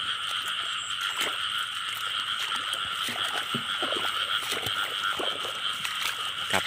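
Many frogs croak together at night in the rain, a loud, dense chorus with steady rain hiss and scattered splashes and rustles close by.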